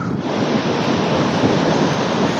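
River water released from a dam rushing forcefully downstream, a dense, loud, continuous roar and hiss of churning flow with wind buffeting the microphone, no voices.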